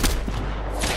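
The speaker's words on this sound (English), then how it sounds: "Oh, he shot at me." Gunfire in the military shooter Squad, a burst of sharp cracks at the start and end of a second of dense, loud rumbling battle noise.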